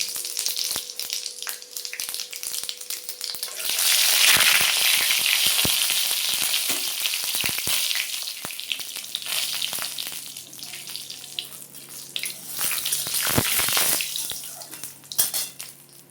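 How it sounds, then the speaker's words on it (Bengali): Panch phoron spices fry in hot white oil in a heated kadai, a steady close sizzle that swells louder midway, with light clinks of the pan. "পাঁচফোড়নটা একটু ভাজা ভাজা হলো"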